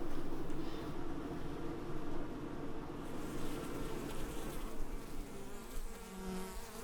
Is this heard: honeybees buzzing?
yes